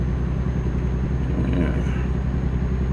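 Truck engine in American Truck Simulator on a Logitech G29 wheel with gear shifter, a steady low rumble and drone running continuously through a downshift, with faint higher engine tones above.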